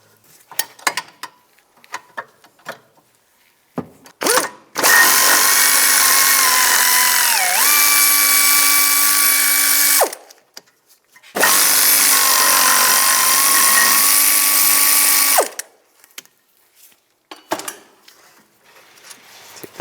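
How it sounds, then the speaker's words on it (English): A pneumatic or power socket tool with a 16mm socket spins out the rear brake caliper bracket bolts on a 2004-2010 BMW X3, giving two loud, steady whining bursts of about five seconds each, with scattered clinks of handling between them. "Now take these two bolts out. Use a"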